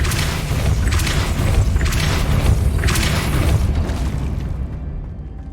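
A Depulso spell cast in Hogwarts Legacy on PS5 sounds as a steady, loud burst of booming energy with repeated surging pulses, fading slightly at the end.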